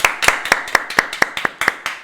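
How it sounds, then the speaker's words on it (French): A single person claps slowly and evenly, about nine crisp, close hand claps spaced roughly a quarter second apart, with no one speaking. "Je pense qu'on peut applaudir"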